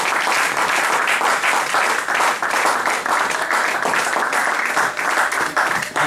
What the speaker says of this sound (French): La gloire de Dieu, acclamons très fort.